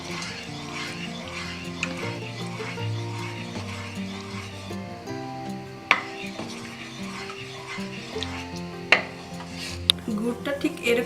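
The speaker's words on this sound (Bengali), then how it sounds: "এটা দিয়ে নাড়তে থাকবো যতক্ষণ এটা বাদামি কালার বা একটু আঠালো ভাব চলে না আসছে" Jaggery is stirred in a pan while it melts for sesame sweets (til naru), giving a soft, continuous scraping under background music, with a few sharp utensil clinks against the pan.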